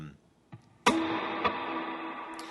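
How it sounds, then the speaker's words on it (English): After a couple of soft clicks, a distorted electric guitar chord in B, neck-and-middle position with light drive, is struck and rings out with dotted-eighth delay repeats and a long, washy reverb tail. "You got a pretty long reverb, as you can hear"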